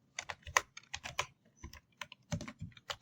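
Irregular bursts of keystrokes on a computer keyboard while typing a CSS file name, short clusters of crisp clicks separated by small gaps, close and fairly quiet with no talking.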